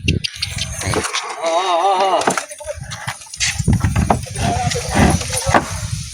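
Horse hooves clip-clop in a steady rhythm close by at a horse and water buffalo pulling contest, with people talking over them and a brief tonal warble in the middle.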